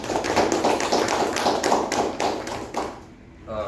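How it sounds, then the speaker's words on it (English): An audience at a meeting applauds, steady close hand clapping from a room full of people that carries on for a few seconds and then tapers off. "let us give DTM Udanka another round of applause"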